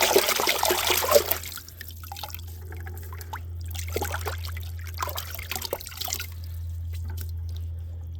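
Aquarium filter sponge pads from a Fluval 407 canister filter are squeezed and swished in a container of water, giving soft wet squelches, drips and trickles that come in bursts, close by and fairly quiet, with a low hum underneath.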